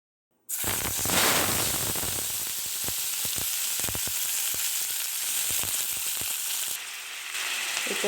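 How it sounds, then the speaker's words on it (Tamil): Tamarind roasts lightly in a hot pan for tomato thokku, a sudden bright crackling sizzle starting after a half-second of silence and holding steady, with scattered sharp pops and scrapes. "அதே போல் புளியையும் லைட்டாக வறுத்து எடுத்துப்போம்"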